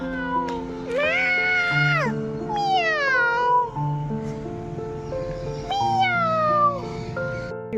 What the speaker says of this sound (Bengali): বিড়াল আছে বাবা? বিড়াল শোনা